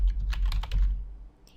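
Computer keyboard typing while naming a new folder, a quick burst of several close, crisp key clicks over a low background hum, tapering off into quiet.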